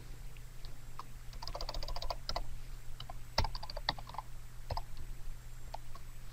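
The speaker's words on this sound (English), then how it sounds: "I'm typing in the dark" Typing on a computer keyboard in a dark room, irregular bursts of soft clicking keystrokes with short pauses and a few louder taps, close and alone over a faint steady hum.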